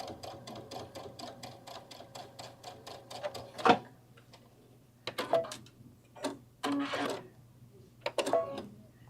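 A sewing machine stitches a garden lattice clutch bag in quick rhythmic bursts of close mechanical ticking. Separate louder clunks and short pauses break up the runs of stitching.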